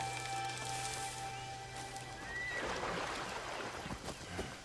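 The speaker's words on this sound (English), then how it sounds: "This horse has seen better days." A horse whinnies in Assassin's Creed Shadows over a steady background hum, followed by rustling, rain-like noise and a few soft thuds.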